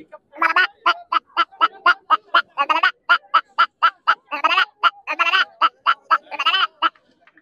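A man mimics the call of a wild water hen found around ponds, a rapid, loud run of about thirty clipped, quacking notes in an uneven rhythm, close and alone.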